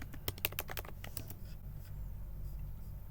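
A computer keyboard typed on while coding: a quick run of crisp key clicks for about a second, then the keys fall silent over faint room noise.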